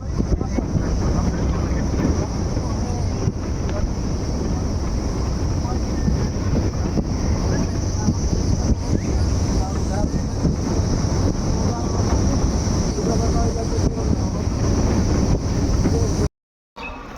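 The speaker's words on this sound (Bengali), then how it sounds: "সাফারি করে প্রচণ্ড হাওয়া গাড়িতে ছিল" Strong wind roars and buffets the microphone continuously, a loud, steady rushing blast from an open Gypsy jeep on safari in Gorumara forest, cutting off abruptly near the end.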